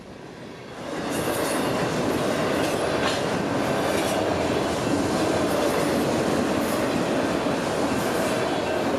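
A steady, loud rumble of a 12,000-foot freight train's rail cars rolling past nearby, with a continuous roar and faint metallic wheel noise throughout.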